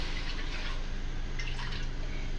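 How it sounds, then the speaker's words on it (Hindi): Water pours steadily into a pot for boiling vermicelli in a home kitchen, a close, continuous splashing gush with no talking. "चलो पानी डालते हैं बिल्कुल डेली ब्लॉगर्स के स्टाइल में"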